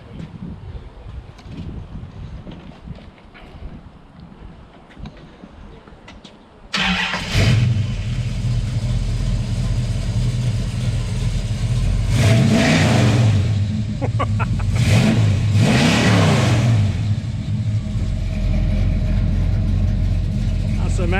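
A 7.2-litre 440 V8 in an American car cranks and fires at an outdoor owners' meet near Glasgow, then settles into a loud, rumbling idle with several sharp revs rising and falling, while people talk in the background.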